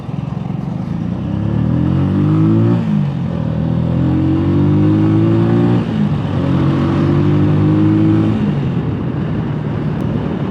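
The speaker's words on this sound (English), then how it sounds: "I like the sound of the exhaust on that bike." The exhaust of a Benelli Motobi 200 Evo motorcycle, ridden on the road in Bali, rises through three or four rising gear pulls, loud and close, each cut by a brief dip at the shift.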